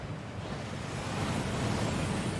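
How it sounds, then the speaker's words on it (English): Rushing water from a waterfall in Hogwarts Legacy, a dense continuous roar that swells slightly and carries on unbroken, with no talking. "That waterfall washes away all enchantments."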